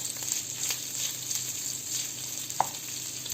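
Oil sizzles steadily in a frying pan, a continuous hiss with one sharp click partway through, close and fairly quiet.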